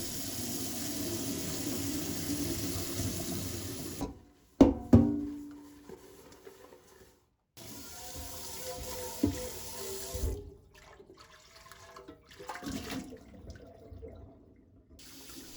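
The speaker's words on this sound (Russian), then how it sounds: "выливаю всю эту воду и мою кастрюлю" Water is poured out and runs steadily into a sink, broken by a few sharp clanks of a pot being handled and scrubbed, then the flow resumes.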